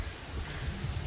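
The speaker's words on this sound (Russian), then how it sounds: "Дождь идет" A steady wash of rain with a low rumble under it, constant and fairly close, with no voices.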